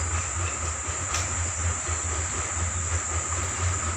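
A train crosses a bridge with a rhythmic low rumble and clatter of wheels, steady and moderately loud, while a thin insect hiss and chirping carry over the top.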